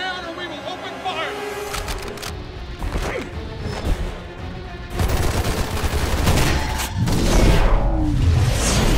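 Bursts of gunfire and crashing impacts during an attack scene in X-Men: First Class, loud and dense, mixed with shouting voices and a swelling score.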